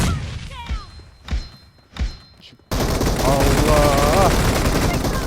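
Grenade blasts and gunfire in the mobile battle-royale game PUBG Mobile: three separate heavy thumps, then a dense continuous barrage of shots and explosions with a voice talking over it.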